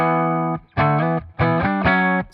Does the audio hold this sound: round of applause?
no